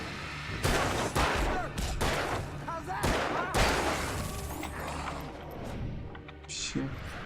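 Bursts of video-game gunfire crack out in quick clusters of shots with heavy low booms, loud and close, while a voice talks over parts of the fighting.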